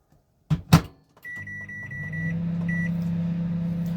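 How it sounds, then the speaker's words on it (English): Microwave oven cooking a jacket potato: a couple of door clunks, a beep, then a steady low hum as it starts running, close and continuous to the end. "we're going to put it in the microwave"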